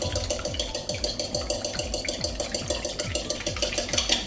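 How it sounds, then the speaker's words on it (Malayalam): An egg is whisked with a quarter glass of water for a chicken fry coating, fast rhythmic beating strokes repeating about twice a second, close and crisp. "മുട്ട നന്നായിട്ട് ബീറ്റ് ചെയ്തു"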